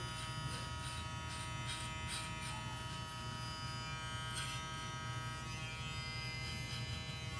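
Vector-motor hair clippers run steadily while cutting hair, a close, continuous electric buzz that never changes pitch or strains, with no talking.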